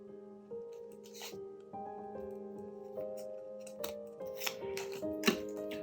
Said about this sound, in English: I really like these scissors.